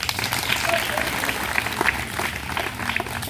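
Applause from an audience watching an outdoor street play about saving water, steady clapping running throughout with voices mixed in underneath.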